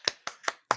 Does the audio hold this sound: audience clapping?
yes